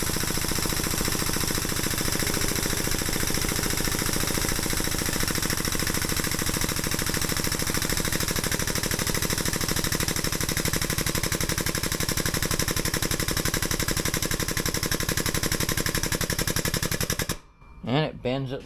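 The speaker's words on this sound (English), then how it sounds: "it's going to get a little noisy because this is an air over hydraulic jack" An air-over-hydraulic jack on a press brake with an improved bottom die pumps while bending metal, a loud, rapid mechanical rattle that runs steadily for about seventeen seconds and then cuts off, followed by brief sounds at the end.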